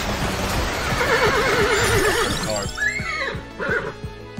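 Horse neigh sound effect for a card pick in the video game Vampire Survivors, a wavering whinny rising and falling over game music, followed by shorter snorting calls near the end.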